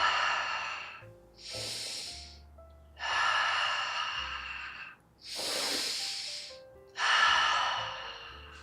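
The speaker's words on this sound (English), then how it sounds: "Let's take 3 deep breaths from our diaphragm." Deep diaphragm breaths, close and audible: three slow inhale-exhale cycles with breathy airflow, each long exhale followed by a sharp, hissy inhalation, alone with no talking.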